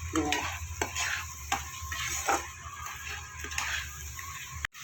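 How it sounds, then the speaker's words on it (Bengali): Spice masala for egg curry being stir-fried in a pan: repeated close scrapes and clinks of a spatula against metal over a continuous sizzle, in an irregular rhythm, with a sharp knock near the end. "মশলাটা আমি গুঁড়ো মশলা ধরে কষিয়ে নিয়েছি আর একটু কষিয়ে নেবো"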